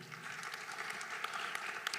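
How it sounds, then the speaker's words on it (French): Applause from an audience at a panel session on national AI strategy, a soft, steady wash of clapping that holds evenly for the full two seconds, faint and distant rather than close. "Bravo, on peut l'applaudir"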